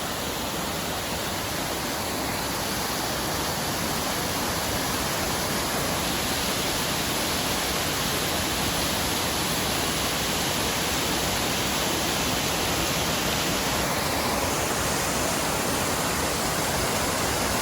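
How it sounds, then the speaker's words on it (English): Quail Falls, a big waterfall with a 40 to 50 metre main tier and a further drop of about 20 metres, roars as a steady, dense, unbroken rush of water for the whole stretch, with no voices. "This is Quail Falls. The main tier is probably 40 to 50 metres"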